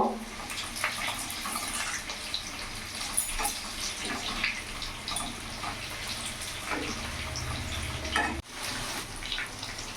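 Chicken pieces frying in oil in a pan for garlic chicken, a steady close sizzle with occasional stirring scrapes and clatters as the pieces are turned, no talk.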